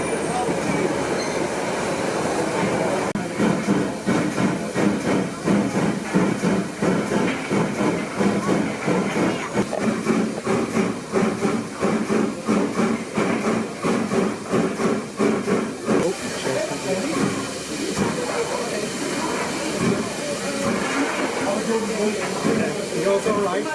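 Locomotive 71000 Duke of Gloucester, a three-cylinder steam engine, working hard with a loud rhythmic chuffing beat and steady steam hiss, close by, while people talk over it.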